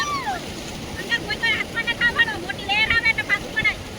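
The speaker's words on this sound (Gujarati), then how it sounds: "જો આ મોજા કેવા આવે" Sea waves surge against the shore at Somnath in a continuous rushing wash, with people calling out and chattering over the surf throughout.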